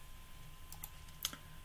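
Someone types CSS code on a computer keyboard, making a few faint, sparse keystroke clicks over a quiet room hum.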